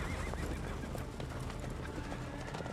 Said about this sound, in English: Oh, that's a lot of horses all of a sudden.